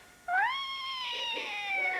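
A house cat lets out a single drawn-out, rising caterwaul during a standoff with another cat, fairly close and steady for about two seconds with no talking.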